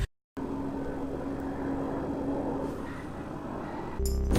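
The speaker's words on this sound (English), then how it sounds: "we've got another helicopter flying over" A helicopter's low, steady rotor drone hums in the background during bushfires, with a brief sudden louder burst near the end.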